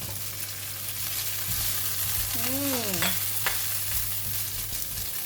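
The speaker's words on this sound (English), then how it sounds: "We're going to fry the shrimp paste or the belacan in the oil." Shrimp paste (belacan) and chili frying in hot oil in a pan, a steady even sizzle continuing throughout, with a brief whistling squeak and a light clink partway through.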